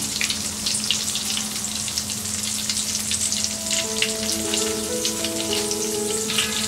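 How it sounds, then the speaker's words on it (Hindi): Mixed vegetable cutlets deep fry in hot oil with a continuous, dense crackle and bubbling at an even level throughout. A faint tonal hum sits underneath. "इसी तरह हम बाकी सारे कटलेट्स फ्राई कर लेंगे।"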